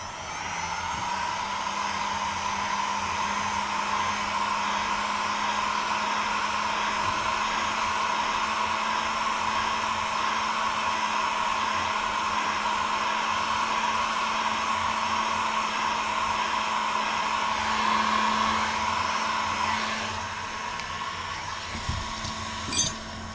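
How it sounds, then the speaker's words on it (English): A heat gun blows with a steady, loud whine and whoosh while warming the front fork of a Segway G2 scooter, running alone until it clicks off near the end. "All right, heat gun."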